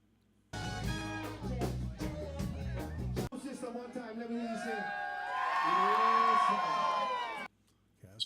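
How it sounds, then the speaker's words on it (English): A live crowd track from a Slack Key Lounge recording plays alone, with loud whoops, shouts and cheering rising into a sustained roar before cutting off abruptly. "Crowd tracks."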